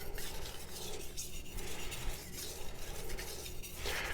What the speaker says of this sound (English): So we are going to polish the edge a little bit more